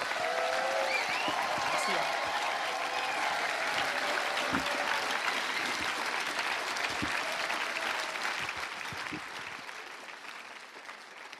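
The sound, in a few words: congregation applauding and cheering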